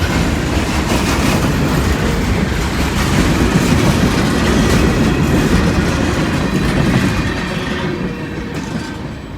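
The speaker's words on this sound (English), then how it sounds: "This train is hauling an assortment of freights, from rocks to chemicals." A Norfolk Southern freight train hauling mixed cars, including ethanol and liquefied nitric acid tanks, rumbles steadily past close by in Georgia, with continuous loud wheel clatter and rail noise that eases slightly at the end.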